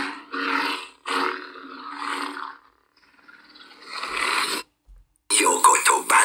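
An etched brass Proffie lightsaber igniting a red blade: bursts of roaring, crackling hum separated by silent gaps, with a louder, brighter surge near the end; close and fairly loud, with no talking over it.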